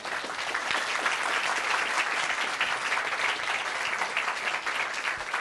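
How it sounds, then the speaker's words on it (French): Studio audience applauding loudly and steadily in a large French television studio during a live call-in program, continuous dense clapping with no pauses throughout. "Bien sûr qu'on peut applaudir"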